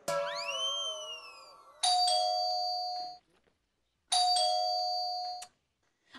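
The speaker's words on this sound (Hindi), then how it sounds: "डोर की बेल रिंगिंग" A two-tone doorbell chimes twice indoors, each ding-dong ringing out clearly and decaying, with a short silent gap between the presses and no talking over it.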